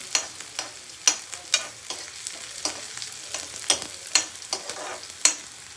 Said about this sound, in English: Just toss the onions in the hot oil so that the color becomes golden yellow.